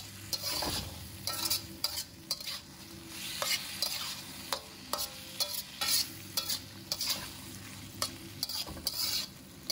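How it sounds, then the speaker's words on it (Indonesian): Squid in its ink being stir-fried in a pan, loud steady sizzling with repeated scraping and clattering strokes of a utensil throughout, close by, with no talking. "ini cuminya kita masak dulu biar nggak bau ya"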